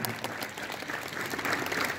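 Students clapping at a school assembly, a faint, dense wash of many hands heard from a distance, steady and continuous.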